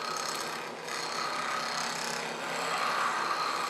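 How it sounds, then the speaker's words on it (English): A skew chisel making push-pull cuts on wood spinning on a lathe at 2000 RPM produces a continuous scraping, hissing shear with a steady motor hum beneath, fairly close and even in level with slight swells. "We're doing a nice push-pull cut with the skew."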